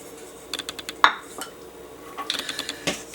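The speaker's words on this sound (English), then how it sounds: "we're going to mix all our dry ingredients together quickly" Dry scone ingredients with shredded coconut and baking powder are mixed quickly in a bowl, giving a series of light clinks and scrapes of a utensil against the bowl, with a sharper clink near the middle.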